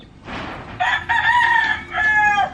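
A rooster crows loudly and close, a long drawn-out call in two bursts with a short break, no talking.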